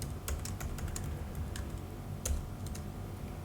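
Steady, rapid typing on a computer keyboard, a close run of light clicky keystrokes with a few heavier taps, no talking.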